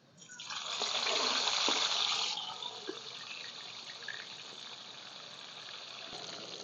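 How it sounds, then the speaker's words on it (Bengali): Fish, including tilapia, sizzles loudly as it is dropped into hot mustard oil in a pan, a dense frying hiss that swells for a couple of seconds and then settles into a steadier, quieter crackle. "এই মাছ ছাড়ি দিচ্ছি তেল গরম হয়ে গেছে"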